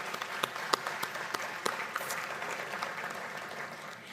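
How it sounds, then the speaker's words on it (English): An audience at a Hyundai economic development announcement in Ascension Parish, Louisiana, bursts into applause, with sharp individual claps standing out at first before settling into a softer, fading patter. "Let's give it a round of applause one more time."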